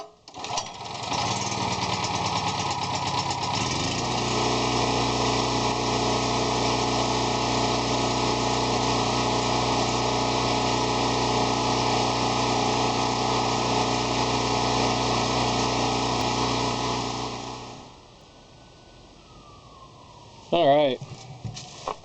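A Champion generator engine, its pull cord freshly repaired, runs at a steady loud drone for about seventeen seconds, then sputters and cuts out as it runs out of gas, leaving quiet handling sounds.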